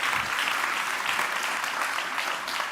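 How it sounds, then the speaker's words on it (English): An audience at a WordPress conference session gives a round of applause, dense steady clapping from a sizeable crowd filling the whole stretch at a consistent loud level. "I want to hear a round of applause"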